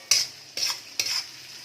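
A spatula stirs diced carrots in a hot pan for prawn egg fried rice, three distinct scraping strokes over a faint sizzle, close and fairly quiet with no voices.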